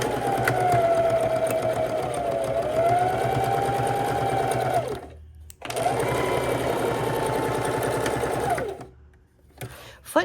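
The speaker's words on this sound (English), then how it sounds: "Let me get another stitch in there." A sewing machine stitches a fabric drink coaster made from 5-inch scrap squares, whirring steadily and close up in two long runs separated by a brief pause.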